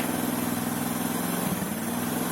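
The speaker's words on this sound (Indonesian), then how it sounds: "pada saat kita naikkan RPM, kita gas" A motorcycle engine idling steadily during a charging-system test of its regulator and stator coil, a constant close mechanical drone with only a slight rise in pitch and no clear rev.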